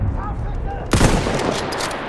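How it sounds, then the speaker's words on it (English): Gunfire in the video game Battlefield 1, a sharp close shot followed by rapid crackling machine-gun bursts over rumbling battle noise, loud and dense. "Machine gun right there!"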